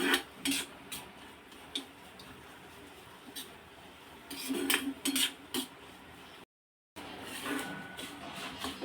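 A spoon scrapes and clinks against a pan as moong dal halwa is stirred, giving irregular bursts of metallic scraping and ticking over a quiet background.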